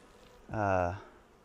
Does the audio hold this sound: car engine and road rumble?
no